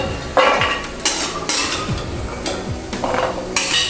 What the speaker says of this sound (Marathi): तर बदामही आपले अगदी व्यवस्थित भाजून झाले जरा काढून घ्यायचे